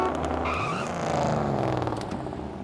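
A car pulls away with tires skidding and squealing, a continuous engine roar with screeching rising over it, close and fairly loud.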